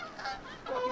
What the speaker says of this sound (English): The ceremonial geese flyby.